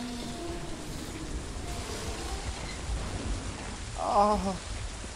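Rain falls on a bridge in the video game Infernium, a faint, steady hiss that runs throughout, while a man gives a short exclamation near the end.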